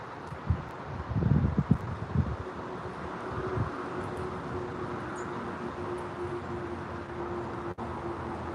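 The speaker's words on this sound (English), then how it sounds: "And even though it's windy," Steady outdoor wind noise rushing over the microphone, with a few low buffeting thumps early on, continuing as a constant broadband roar.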